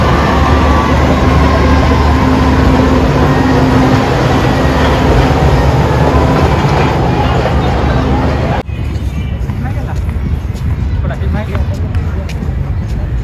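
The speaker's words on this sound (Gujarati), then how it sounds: "જો રેલગાડી જાય છે અત્યારે, આ જૂના જમાનાની આપણી બાપુ ગાડી છે" An old-fashioned toy train runs past at Kankaria lake, a loud steady rumble with a constant tonal hum that cuts away abruptly partway through, leaving a quieter, thinner rattle and outdoor noise.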